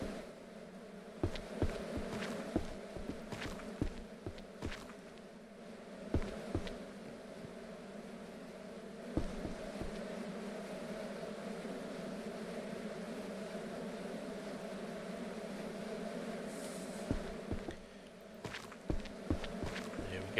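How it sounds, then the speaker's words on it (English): Bees hum steadily on a ranch in the farming game Ranch Simulator, a continuous drone lasting throughout, broken by scattered footsteps and clicks. "The bees are fine. Bees can stay as they are for the time being."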